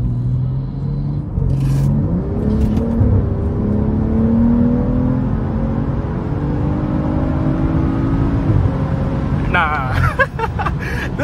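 A BMW F30 335i tuned to Stage 2+ accelerates hard, its engine drone rising steadily in pitch under cabin rumble, with a brief gear change near the end, heard from inside the car.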